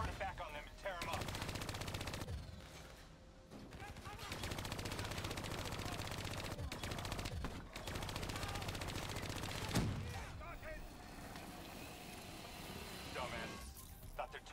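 Sustained automatic gunfire from Call of Duty Black Ops 3 as bats are shot down, with rapid loud bursts, mechanical whirring and dense battle noise, broken by short pauses.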